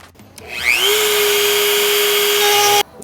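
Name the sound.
drill ovaling a screw hole for Type R aero kit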